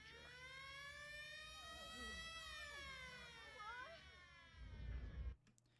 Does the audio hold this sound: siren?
yes